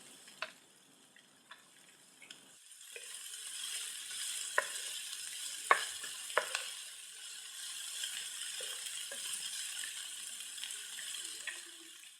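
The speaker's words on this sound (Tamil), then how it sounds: "இதை எல்லாத்தையும் இந்த மாதிரி பொன்னிறமா வர வரைக்கும் வதக்கிக்கிறலாம்" Onion, curry leaves, chopped green chilies and soaked chana dal sauté in a hot pan for kara paniyaram, giving a steady close sizzle broken by sharp clinks and scrapes of a spatula against the metal.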